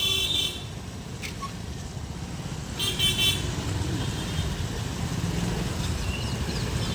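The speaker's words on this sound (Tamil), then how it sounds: "அந்த சைடு பார்த்தா டிராஃபிக்," Busy street traffic in Purasaiwakkam, Chennai, a steady rumble of cars and motorcycles with two clear bursts of car horn honking standing out above the engine noise.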